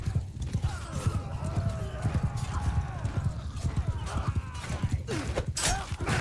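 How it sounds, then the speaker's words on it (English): Rapid hoofbeats of a horse galloping in a video game pound continuously in a quick rhythm, with a whinny and some game sounds layered on top. "This horse is super fast."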